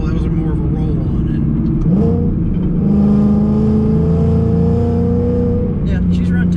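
A 750-horsepower Roush supercharged Mustang GT roars steadily on a throttle roll-on, its engine note climbing in pitch and holding loud and close from inside the car, with people talking over it.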